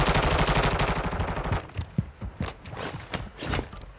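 Automatic gunfire with heavy recoil in a video game, a loud rapid burst of shots for about a second and a half, followed by quieter scattered thuds and footstep-like steps.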